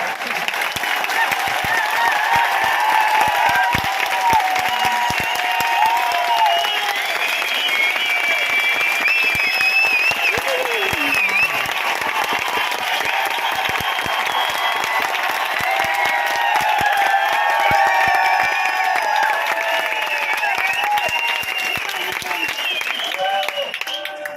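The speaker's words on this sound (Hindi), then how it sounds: "ये जो ताली बजा रहे इतनी जोर से बजाओ कि जो मुर्दे बैठे वो खड़े हो जाए।" Large indoor audience applauding hard and continuously, a dense steady roar of clapping with cheering voices and whistles mixed in, loud and close throughout.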